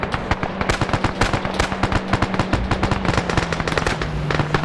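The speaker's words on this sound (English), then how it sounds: "You're seeing a strafe on that light tank." Rapid, loud bursts of machine-gun fire as an aircraft strafes a light tank in a WW2 game, dense and continuous over a steady engine drone.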